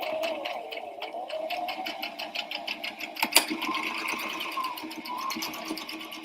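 A sewing machine stitches apron pieces together, its rapid needle pulses running steadily up close, with a brief sharp clack midway through.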